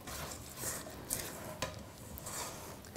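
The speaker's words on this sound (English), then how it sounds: "because they break up a bit more once you stir them into the fudge mixture" A spoon stirs cranberries and shortbread chunks through a thick white chocolate fudge mixture, a faint, soft, continuous scraping and squelching heard up close with no talk.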